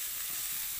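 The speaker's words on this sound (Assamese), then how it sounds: "আৰু ইয়াতে এতিয়া মই দি দিম মটৰখিনি মটৰখিনি অকণমান ভাজি লম" Peas frying in a pan: a steady, close bright sizzle with soft crackle, continuous and even throughout the short moment, no voices.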